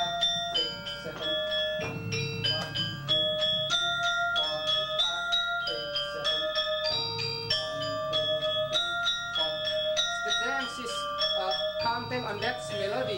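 Balinese gamelan ensemble plays Baris dance music, bright metallophone strikes ringing in steady repeated patterns with low gong accents, loud and close throughout.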